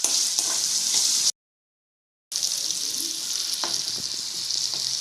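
Masala fries with a steady, loud sizzle in a pan on the stove as it is stirred, then cuts to silence for about a second before the hiss resumes with occasional scrapes.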